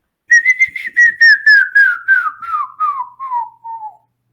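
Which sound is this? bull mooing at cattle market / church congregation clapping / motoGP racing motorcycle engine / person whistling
person whistling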